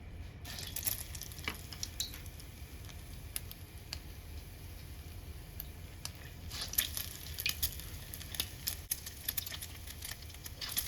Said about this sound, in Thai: ชุบเสร็จแล้วก็เอาลงไปทอดได้เลยนะคะ